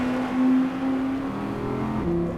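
An Audi R8's V10 engine drones and revs, a loud continuous tone holding near and steady for a couple of seconds before climbing in pitch.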